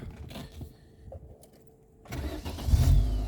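Quiet clicks and faint whirring give way to an Opel Meriva 1.6 Z16XE engine cranking and turning over close by, growing louder and rougher toward the end; the car stalls and won't start when hot, fault code P0230.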